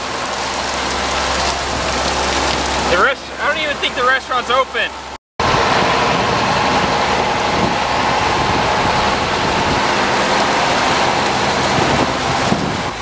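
Heavy rain pours onto a street in Puerto Vallarta as a dense, steady hiss with wind buffeting the microphone, while a person speaks briefly partway through before the downpour carries on alone.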